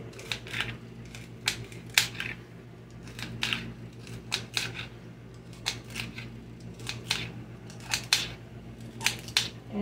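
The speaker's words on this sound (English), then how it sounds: "You can slice these as thin or as thick as you want." A knife slices through tomatoes on a cutting board for stewed tomatoes, giving a quiet, close series of crisp, irregular cutting clicks with no speech.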